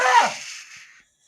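A single sharp sneeze bursts close to the microphone during a sports talk podcast, loud at first and then trailing off within about a second into silence.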